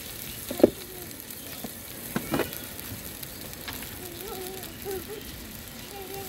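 Ginger garlic paste dropped into hot oil in a pan: a steady, soft sizzle with a couple of sharp spoon clicks near the start, heard without talk.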